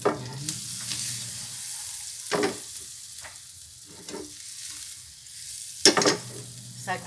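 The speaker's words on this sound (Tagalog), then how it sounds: "Luto ko lang sila sa butter guys." Green peas cooking in butter in a pan, giving a continuous sizzle with a few sharper stirring scrapes and clinks at intervals; no one speaks.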